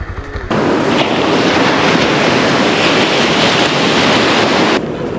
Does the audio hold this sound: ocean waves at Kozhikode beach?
yes